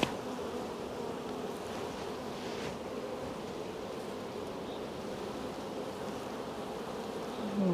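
Honey bees hum in a steady, dense drone at an open hive during a spring colony inspection, the nervous colony buzzing close and continuously with no voices.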